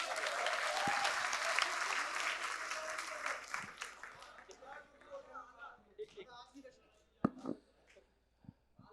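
Audience at a Bundeli literary gathering breaks into applause, loud clapping that fades over several seconds into scattered claps and murmuring voices.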